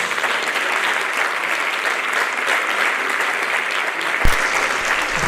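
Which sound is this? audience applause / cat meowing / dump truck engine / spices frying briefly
audience applause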